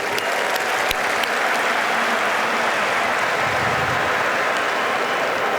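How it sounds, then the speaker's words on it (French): The crowd at the inauguration of the Abdoulaye Wade stadium in Senegal applauds, a loud, continuous roar of clapping lasting several seconds with a few sharper claps near the start. "Ils méritent certainement nos applaudissements."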